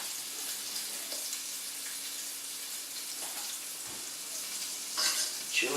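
Cumin seeds sizzling in a hot frying pan, steady sizzling and crackling in a continuous hiss with a few louder bursts near the end.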